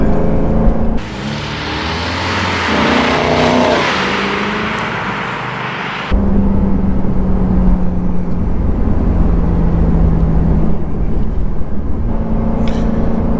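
Lexus GSF fitted with an APEXi midpipe gives a steady, loud low exhaust growl, first with a rising rev through the opening seconds, then a sharp shift to a constant deeper drone that holds to the end with no talking.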